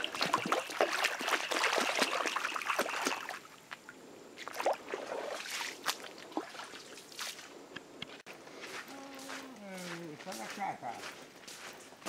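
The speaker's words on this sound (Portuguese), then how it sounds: "está escorrendo bastante água aqui." A stream of very cold water runs past on a rural farm path, a steady, close rushing trickle that fills the clip, with footsteps and someone talking over it in Portuguese.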